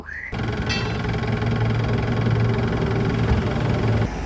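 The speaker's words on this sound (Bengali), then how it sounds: "পাশাপাশি ইঞ্জিন সাউন্ড শুনুন" Mahindra Big Bolero pickup with an in-line pump engine running steadily nearby, a continuous rough diesel-like rumble with even knocking throughout and no talk.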